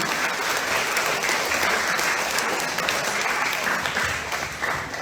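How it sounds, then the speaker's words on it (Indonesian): A roomful of students and staff at a junior high school student council candidate debate in Makassar applaud continuously, a thick, even wash of clapping with no pauses, close and moderately loud throughout. "Oke, tepuk tangan dulu untuk kita semua"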